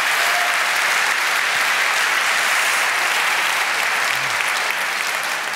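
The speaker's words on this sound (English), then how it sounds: "thanks for the applause" Loud, sustained applause from a conference audience fills the whole stretch, a dense, even wash of clapping with no speech over it.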